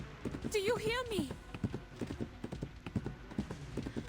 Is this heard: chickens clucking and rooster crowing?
no